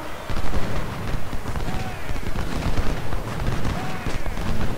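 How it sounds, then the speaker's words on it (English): Dense volleys of Civil War musket and cannon fire in the strategy game Ultimate General Civil War, crackling shots overlapping continuously with heavier booms, loud and busy throughout. "Guns are getting shot up a bit."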